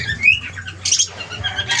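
Brief, harsh bird squawks close by, a couple of raspy calls in under two seconds.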